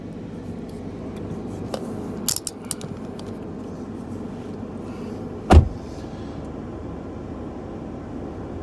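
Inside an Alfa Romeo Giulia Quadrifoglio on the road, its V6 engine, derived from the Ferrari 488's V8, holds a steady low rumble, with a few sharp clicks and one short thump.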